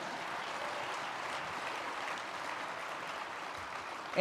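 A conference audience at the Western Conservative Summit 2012 applauds in a steady, even wash of clapping that sounds distant and soft, ending with a brief sharp noise.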